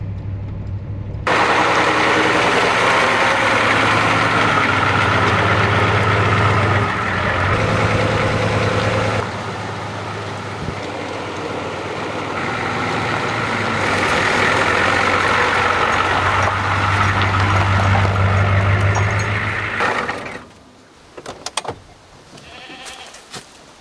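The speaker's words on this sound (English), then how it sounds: "Well, this is a cool old pickup truck." A 31-year-old Ford 7.3 diesel pickup climbs a mountain road in four-wheel drive, its engine droning loud and steady with a low rumble that swells in the middle, then drops away near the end.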